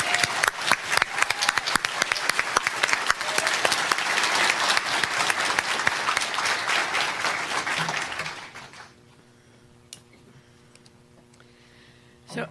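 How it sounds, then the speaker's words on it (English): A nursing pinning ceremony audience applauds the graduating class with loud, dense clapping for about eight seconds, then it drops off abruptly to a quiet room with faint murmurs and a final small sound at the end. "I think the entire class deserves a big round of applause"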